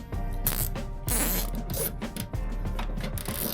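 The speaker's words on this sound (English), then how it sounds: "What I'm going to do is I'm going to secure it with some zip ties" Zip ties are ratcheted tight around wiring conduit in a Ford Transit camper van conversion, giving quiet, close zipping clicks in short bursts with brief pauses.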